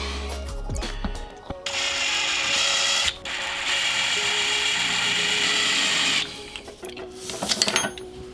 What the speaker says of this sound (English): Drilling a hole through this bit.